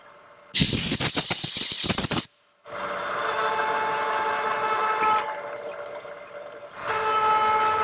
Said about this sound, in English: Now we're drilling better.